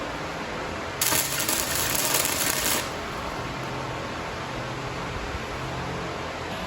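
Tack welding the frame hoop for a cafe racer seat on a 1975 Honda CB750: one crackling, hissing burst of about two seconds, close and fairly loud, over a steady background hum, with no talk.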